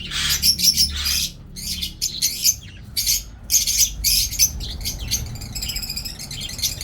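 Budgerigar chicks in a nest chirp in repeated high, scratchy bursts, close and fairly loud, with short pauses between calls.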